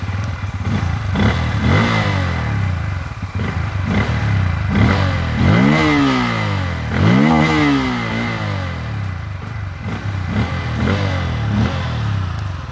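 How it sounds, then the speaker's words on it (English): Bajaj Pulsar N160 motorcycle exhaust, loud and close, repeatedly revving up and dropping back, with rising and falling engine pitch over a steady throbbing idle between blips. "Another major factor which contributes a lot to the engaging ride experience of the Pulsar N160 is that exhaust note."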